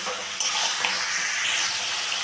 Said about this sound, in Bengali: মশলাটাকে একটু ভালো করে ভেজে নেব।